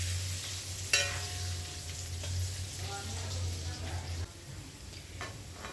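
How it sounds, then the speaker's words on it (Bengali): Potatoes sizzle and fry with turmeric in a pan for a Bengali-style mutton curry, a steady close crackle with occasional stirring scrapes and no talking. "আলুটাকে আমরা ভালো করে ভেজে নেব যতক্ষণ না পর্যন্ত আলুর গাগুলো হালকা একটু লাল হয়ে যাচ্ছে।"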